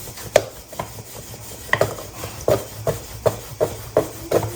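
Lachha paratha dough is rolled out by hand, giving about ten rhythmic rubbing strokes, close and moderately loud, with no talking.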